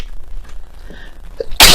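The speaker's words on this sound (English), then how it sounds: "I just felt that sneeze come on." A single sharp sneeze bursts out loudly at the very end after a quiet moment.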